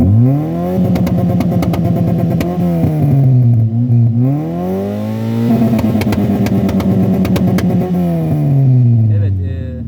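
A Tofaş Şahin car engine with an open exhaust revs hard against a homemade rev limiter, rising and falling in repeated loud surges that hang at the top with a stuttering, clattery edge.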